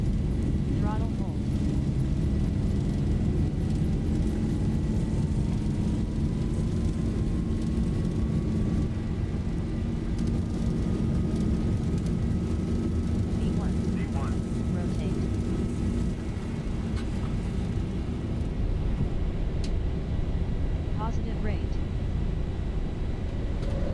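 Airliner engines spooling at takeoff thrust in the Zibo Mod 737 flight simulator game, a steady loud roar with a rising whine throughout, while a person talks over it.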